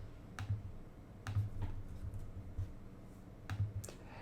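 Typing on a computer keyboard, quiet and close: a few irregular clusters of key clicks separated by short pauses, with no talking.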